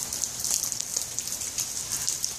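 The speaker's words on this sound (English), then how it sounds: "do you like the rain?" Rain falls in a dense, fine patter of drops on surfaces nearby, steady with small crackling peaks, and no voices.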